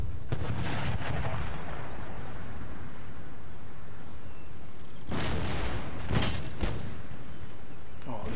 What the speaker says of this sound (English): we've taken a fierce pounding from their artillery